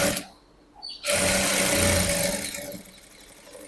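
Sewing machine top-stitching a blouse, a brief handling pause giving way to a loud, close, continuous motor whir that ends in a few slowing pulses.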